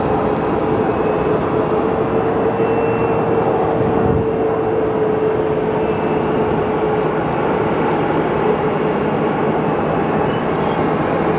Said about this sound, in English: Coming in the land, we have yet another Pilatus PC-12.